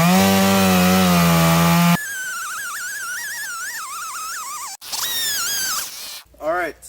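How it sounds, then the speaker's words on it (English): A chainsaw cross cutting a log, starting with a loud steady idle and then revving up and down in wavering pitch, cutting out briefly before another surge and a short final rev. "I'm going to start the chainsaw and cross cut the piece of wood."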